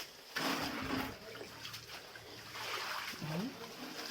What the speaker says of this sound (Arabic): في بقى مزروب هنا اهو تنزل منه بقى الميه